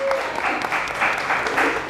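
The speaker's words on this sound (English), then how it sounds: "Let's get a round of applause for Matrix in the building." A community gathering's audience breaks into brief applause, a burst of crowd clapping with scattered voices mixed in over two seconds.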